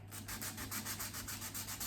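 Rhythmic back-and-forth sanding on filled holes in a wooden TV stand, about a dozen quick even strokes in a row, close and fairly quiet, with a low steady hum underneath.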